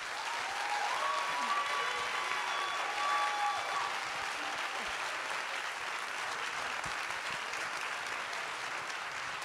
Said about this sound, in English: Everyone, please give a round of applause.